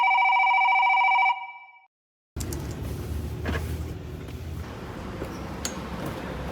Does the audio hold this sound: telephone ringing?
yes